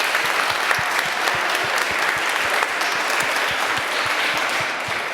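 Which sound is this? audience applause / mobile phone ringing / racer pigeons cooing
audience applause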